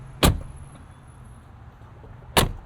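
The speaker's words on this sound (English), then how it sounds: "give me another excuse to open this door" Door of a 2025 Mercedes-AMG G63 with a 577 hp biturbo V8, two sharp solid mechanical clunks of the latch a couple of seconds apart, close by in a quiet parking lot.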